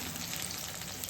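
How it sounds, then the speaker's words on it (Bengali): Bora fritters fry in hot oil in a home kitchen, giving a steady, close, dense sizzle with no voices. "এই যে দিদি বড়া আবার উপরে দিয়ে দিছে,"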